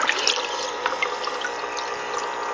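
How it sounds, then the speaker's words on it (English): An aquarium air pump pushes air through a homemade air stone, giving a steady, dense fizz of bubbling water that runs continuously and fairly loud, with no talking. "so that's why I'm getting a nice amount of bubbles out of it"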